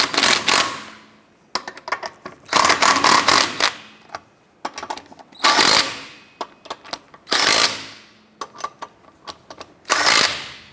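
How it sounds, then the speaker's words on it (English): Impact wrench snugging lug nuts on a 2006-2013 Chevrolet Impala wheel: five loud, close rattling bursts of a second or so, separated by short pauses with small clicks. "Once you have your lug nuts on, let's go ahead and snug those down."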